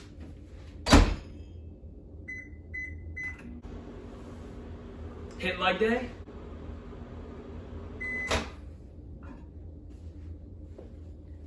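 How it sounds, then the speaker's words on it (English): A microwave door thuds shut, a few buttons beep, and the oven hums steadily for about ten seconds heating cookie dough before the door clunks open; a voice briefly speaks over it. "Put it in your microwave for 10 seconds."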